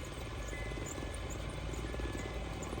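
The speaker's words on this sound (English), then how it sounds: "Sounds like a distant helicopter." A distant helicopter drones steadily with a broad, constant rumble, faint and continuous throughout with no voices.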